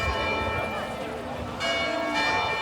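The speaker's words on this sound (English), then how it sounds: "And the chiming of the bells." Church bells ring out the hour of one o'clock at Portsmouth Comic Con, steady ringing tones sounding over a busy crowd murmur throughout.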